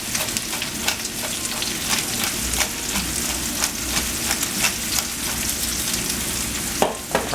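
Mushrooms seasoned with salt and pepper fry in a pan with a steady, close sizzle, dotted with frequent small crackles and pops and one sharper spatter near the end; no one speaks.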